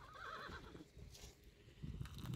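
A horse in the Arabian desert whinnies with a wavering, tremulous neigh, followed by faint hoof clip-clops as it moves off, fairly quiet and distant with no voices.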